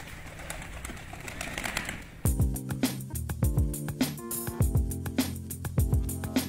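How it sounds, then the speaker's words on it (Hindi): Pigeons gather for scattered grain in a Pakistani village, giving repeated soft, throaty coos at close range with a rustling, breezy background. "सर भाई कबूतरों को दाने डाल रहे हैं।"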